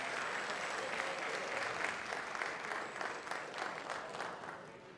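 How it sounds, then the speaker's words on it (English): Crowd applauds Al Wow at a hip-hop induction ceremony honoring Marley Marl, a steady, even wash of clapping held at a moderate distance throughout. "can we get a big round of applause for the one and only Al Wow?"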